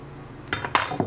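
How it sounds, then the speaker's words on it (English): A spoon stirring vegetarian ingredients in a bowl: a few quick, close clinks and scrapes of metal against the dish, short and alone. "Now I'm just going to stir this up real quick."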